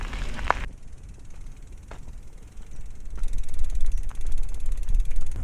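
A mountain bike's freewheel ratchet clicks as the bike is pushed along a roadside during a 70 km cross-country marathon, a soft steady ticking that is partly masked by loud wind and rumble.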